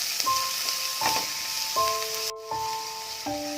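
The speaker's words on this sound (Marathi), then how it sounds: "यात आपण कांदा चांगला परतून घेऊया" Two large chopped onions sautéing in a pan while making a wild takala greens dish, a bright, even sizzle broken by a few utensil knocks and steady musical tones.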